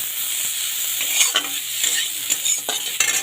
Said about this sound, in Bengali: এখানে দু পেঁয়াজগুলো আমার ভাজা হয়ে গেছে।